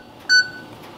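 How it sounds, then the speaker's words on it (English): A Salva smart touch control oven panel gives one short, clear electronic beep, alone against faint background hum. "once the program reaches zero again, the alarm sounds"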